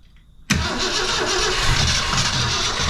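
A 1966 Ford Fairlane with a 390FE engine catches after half a second of near silence, bursting into a loud, close, steady rumble that holds without pause.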